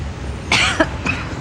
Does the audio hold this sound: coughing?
yes